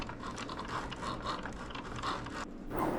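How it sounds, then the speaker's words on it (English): A Cricut cutting machine slices white glitter vinyl for dog bandanas, giving a steady close mechanical whirr with fine ratcheting ticks as the carriage moves, alone and fairly quiet throughout. "I'm using my Cricut to print out white glitter vinyl for their bandanas"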